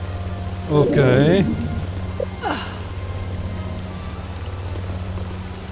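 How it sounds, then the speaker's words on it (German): Acid rain falls on Vjun in Star Wars Jedi Academy, a steady soft hiss of rain running all the way through under a low hum, with a brief warbling tone and a short spoken word near the start. "Halt dich möglichst vom Regen fern."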